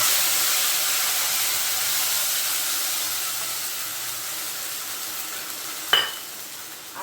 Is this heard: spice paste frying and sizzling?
yes